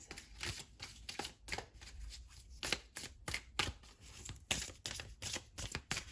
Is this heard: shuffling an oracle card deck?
yes